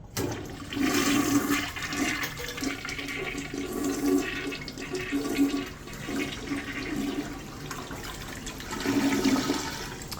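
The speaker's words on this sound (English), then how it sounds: "So for all you toilet fans, let's give it a flush." Briggs toilet original to a Residence Inn by Marriott hotel in Harrisburg-Hershey flushing, a close, sustained rush and gurgle of water that swells and churns for about ten seconds.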